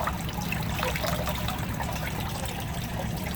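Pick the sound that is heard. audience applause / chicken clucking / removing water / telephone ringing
removing water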